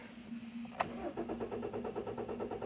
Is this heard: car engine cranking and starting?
yes